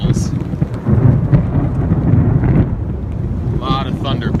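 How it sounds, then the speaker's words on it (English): Loud, heavy thunder rumbles continuously during a thunderstorm over flooded streets in Scott Township, with wind buffeting the microphone and rain in the background throughout. "A lot of thunder, big time thunder right there."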